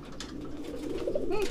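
A male domestic pigeon coos low and close in a short courtship call, with a throaty rolling rise over a soft background.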